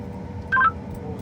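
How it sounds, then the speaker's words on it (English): A telephone being dialed: a single short touch-tone beep, clear and close, over a low background rumble. "I'll start calling people"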